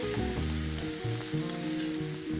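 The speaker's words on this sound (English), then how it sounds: "We have to saute these onions till they are soft and translucent." Onions sautéing in oil in a pan for prawn pepper fry, a steady close sizzle with soft scraping stirs under it.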